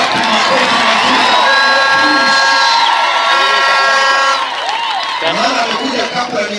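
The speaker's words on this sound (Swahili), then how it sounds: "Wapi makofi mazuri?" Church congregation at a thanksgiving service cheering, whooping and clapping, a loud sustained crowd roar with shouting voices that eases slightly toward the end.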